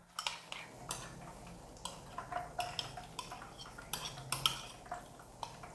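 A spoon clinks and scrapes in a bowl as chopped onion is stirred together with parsley, chives and coriander. The taps are quiet, close and fairly rhythmic, with no talking.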